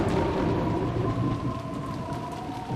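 Rolling thunder rumbles over steady heavy rain in the visual novel game Umineko no Naku Koro ni, a continuous low roar with pattering rain throughout and no voices.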